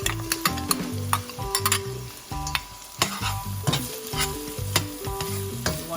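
Garlic hits a pan of sizzling thyme and pepper, a steady frying crackle broken by repeated spoon-stirring knocks and scrapes, close and fairly loud with no voices.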